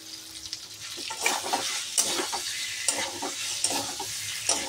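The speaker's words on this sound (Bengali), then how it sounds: "আলুগুলিকে দিয়ে সুন্দর করে কষিয়ে নিচ্ছি।" Fried potatoes stirred and sautéed in hot spiced oil for a paneer curry, with a steady sizzle and repeated scraping stirs of a spoon against the pan, close and fairly loud, no talking.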